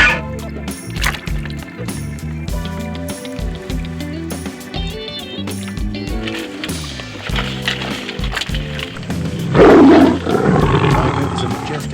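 A tiger roars loudly near the end, rising over busy cartoon-style background music, with spoken narration through the scene.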